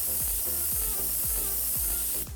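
SabreGrip canister gun spraying contact adhesive, a steady close hiss of spray running throughout, with a rhythmic low pulsing about every half second underneath and a brief drop at the end.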